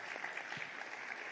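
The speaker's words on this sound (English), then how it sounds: "please join me for a big round of applause for all our speakers today" A conference audience applauds speakers at a defence and security forum in Thailand, a steady, dense patter of clapping filling the hall with no voices over it.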